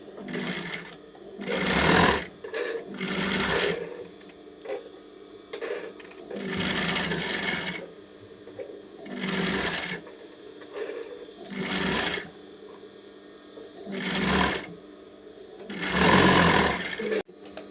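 A sewing machine stitches the folded-over neckline of a girl's dress, running in repeated short bursts with brief pauses between them, close and fairly loud.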